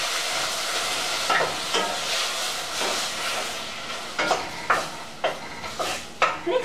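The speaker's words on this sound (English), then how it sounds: "now you're gonna throw in your tomatoes and let them kind of cook down" Tomatoes cook down in a pan for tomato sauce with a steady frying sizzle and hiss, joined by several sharp scraping stirs toward the end.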